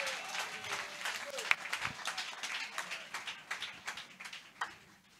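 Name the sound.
church congregation applauding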